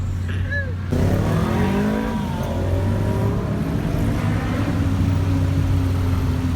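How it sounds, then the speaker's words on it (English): A tuk-tuk engine drones steadily while riding through Thailand, a continuous loud rumble with road noise and wind, faint voices briefly audible near the start. "Y'all, we're in a tuk-tuk."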